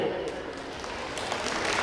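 Parents and children applauding at a school prize distribution, a brief steady patter of clapping from a moderately distant audience.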